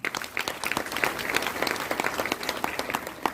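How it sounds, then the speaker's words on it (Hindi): Loud applause from an audience at a DXN business meeting, dense continuous clapping filling the hall throughout with occasional cheers mixed in. "डिएक्शन के लिए जोरदार तालियां।"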